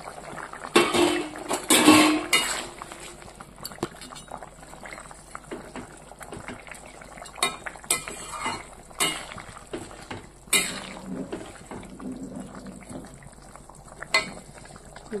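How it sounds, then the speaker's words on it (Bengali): A potato and fish curry boils in a pan, giving a steady simmering bubble with brief louder clatters and stirring knocks near the start, close by and with no talk. "এই যে দেখো, টকবগিয়ে ফুটছে।"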